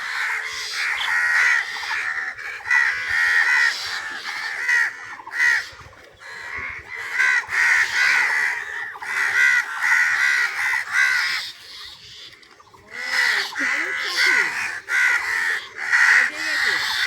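A bird tangled in its own nest squawks in loud, repeated harsh caws that come in bursts over several seconds, with people talking close by.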